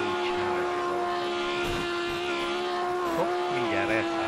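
Car engine in the racing game Project Cars, a steady buzzing drone like a rough lawnmower, holding a constant pitch with slight rises, loud and continuous beneath faint talk.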